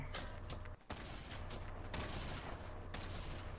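Dense gunfire from the Fortnite Battle Royale video game, rapid shots overlapping into a continuous loud barrage with one brief gap.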